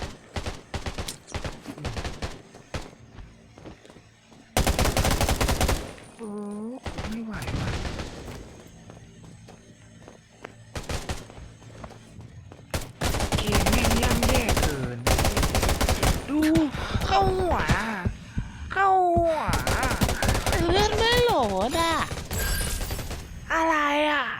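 Gunfire in the video game Undawn: bursts of automatic fire and single shots crack out in irregular volleys over more than twenty seconds, loud and close, with someone talking excitedly between and over the shots.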